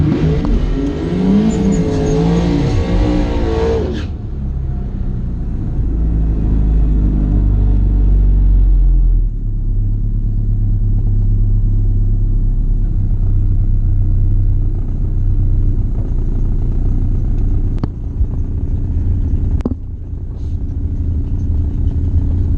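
A car at a drag strip launches with the driver's foot to the floor, its engine revving hard through rising, strained gears for several seconds, then dropping to a loud steady rumble that drones on to the end.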